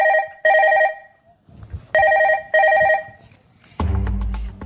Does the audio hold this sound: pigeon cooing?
no